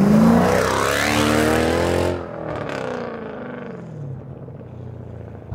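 A Mercedes C63 AMG estate (W204) with a naturally aspirated V8 and aftermarket exhaust roars loudly up close, revving hard then easing off into a lower, rumbling drone as it fades slightly.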